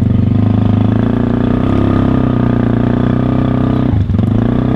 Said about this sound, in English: Look, your exhaust is about to go underwater, so you need to stay on the gas.